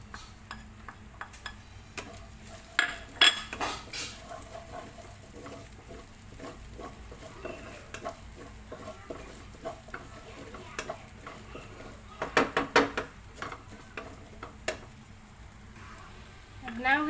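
Garlic sizzles in olive oil in a pan while beef broccoli with oyster sauce is being cooked, a steady frying hiss under scattered ticks and clinks of a utensil stirring, with a louder burst of stirring near the end.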